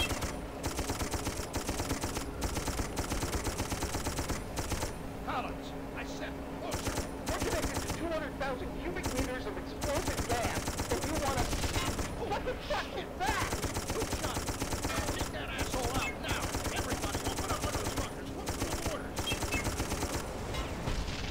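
Machine guns fire in the video game Darkest of Days, a dense, relentless rattle of bursts and volleys that keeps on for about twenty seconds with only brief dips.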